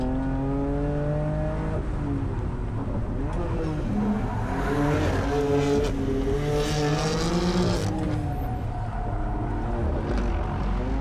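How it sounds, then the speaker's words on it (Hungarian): A rear-wheel-drive BMW M4 GTS powers out of a track corner while drifting, its engine note rising and dipping through gear changes, with tire squeal mixed into a steady, fairly loud roar. "Most azt csinálja, hogy behajítja, és a kigyorsításon próbál nem annyira keresztbe menni."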